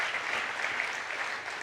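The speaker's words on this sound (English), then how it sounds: "Big round of applause for all of them" Steady applause for students being honoured, a dense, even patter of many hands clapping throughout with no pauses.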